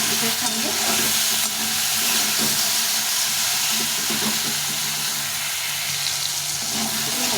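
Turmeric powder frying in oil in a pan while raw-banana kofta curry is being made, giving a continuous dense sizzle with occasional stirring clinks and no talk.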